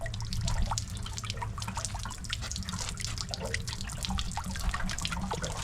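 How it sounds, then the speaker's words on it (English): Water drains from a camper's hot water tank in a steady trickle with dripping and splashing, close and continuous with no talk. "while that thing's draining, the hot water tank's draining"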